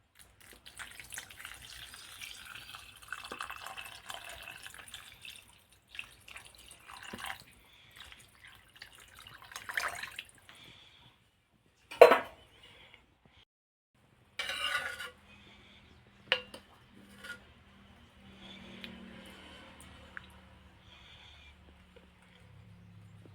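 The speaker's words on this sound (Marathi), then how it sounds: "तर चला आता भांडे घासते" Dishes being washed by hand at a sink: scattered metallic clinks and knocks of pots and utensils with water dripping and splashing in short bursts, close by and fairly quiet.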